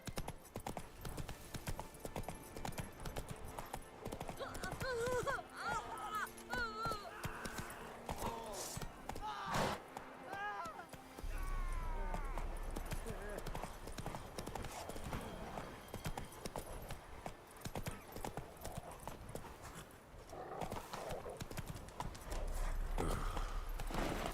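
Horse hooves clip-clop at a steady gallop rhythm in The Witcher 3, loud and continuous with brief neighs and a game soundtrack beneath, pausing midway before the hoofbeats resume.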